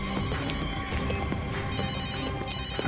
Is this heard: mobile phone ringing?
yes